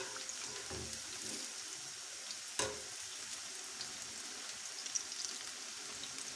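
Pakoras frying in hot oil, a soft steady sizzle and crackle with occasional sharper pops and a light scrape, close but fairly quiet, with no talk.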